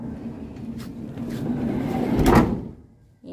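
A sliding side door on a 2019 Toyota Hiace Commuter van rolls and slams shut, a rising rumble peaking in a firm close near the end, followed by quiet.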